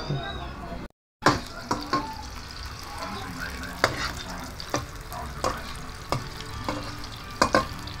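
Food sizzling as it fries in a pan on a home stove, with a steady hiss broken by repeated scraping and clinking strokes of stirring, fairly close.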